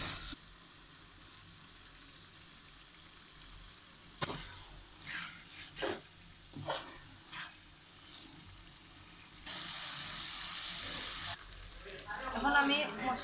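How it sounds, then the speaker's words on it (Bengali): Onions fry for chicken curry with a soft sizzle, broken by several knocks and scrapes of stirring, then a louder, sustained burst of hissing near the end. "এখন পেঁয়াজ ভাজবো, পেঁয়াজ লাল হইলে তো আস্তে আস্তে ভাজবা"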